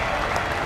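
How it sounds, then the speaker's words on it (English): A crowd at the eChampions League 2024 finals applauds in a dense, continuous burst of clapping, heard briefly and at full volume. "Applause for Jonny"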